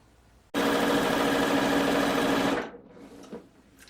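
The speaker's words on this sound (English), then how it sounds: "I'm just going to sew my lace to it" A sewing machine stitches lace onto a garment hem, running loud and steady at close range for about two seconds before stopping abruptly, leaving faint handling noises.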